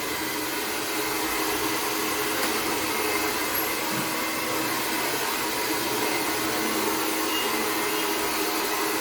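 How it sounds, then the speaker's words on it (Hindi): A hair dryer blowing hair while it is brushed with a paddle brush, a loud steady airflow roar held continuously and close, with no talking. "और हमेशा ड्रायर पैडल ब्रश करते हुए ड्रायर करें।"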